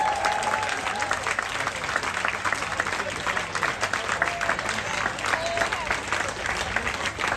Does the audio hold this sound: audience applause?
yes